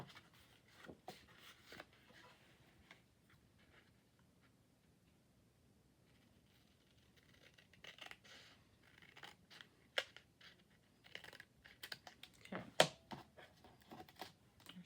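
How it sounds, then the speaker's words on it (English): Scissors snip in short, scattered bursts with quiet pauses between them. The cuts get closer together and louder toward the end. "I think I can just do my scissors on this."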